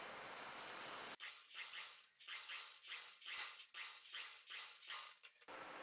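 A sewing machine stitching fabric to the lining of a kurti jacket rattles in a series of short, regular bursts with brief pauses between, fairly faint and alone.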